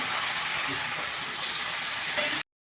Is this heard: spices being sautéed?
yes